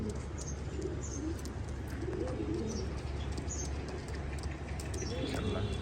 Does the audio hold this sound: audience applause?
no